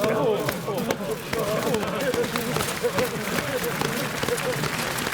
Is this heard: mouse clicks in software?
no